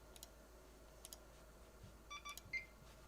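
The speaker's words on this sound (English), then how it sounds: "we got a good beep." Faint electronic beeps and ticks from a computer during sub-zero overclocking over a steady hum, a few short tones near the end standing out slightly louder.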